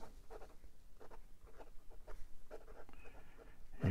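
Kanwrite fountain pen nib used in reverse on paper, giving a scratchy, uneven run of short strokes at close range, ending in a louder rub.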